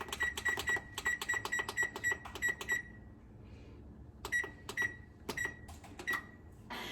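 A kitchen oven's control panel beeps as it is set to preheat for baking biscuits: a quick run of about a dozen rapid electronic beeps, a short pause, then a few more spaced single beeps, close and fairly quiet.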